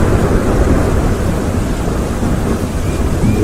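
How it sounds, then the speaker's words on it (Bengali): A heavy, sustained rumble of thunder rolls through steady rain in a dramatized storm scene, loud and dense from start to finish with no voices. "এবার একটা ভুবন পাকানো বাজ পড়ল"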